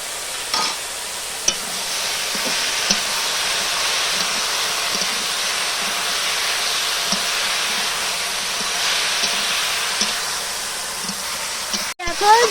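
Ridge gourd sautéing with ground spice paste in a cooking pan, a steady low sizzle and hiss with occasional stirring scrapes, close by, ending in a sharp clank.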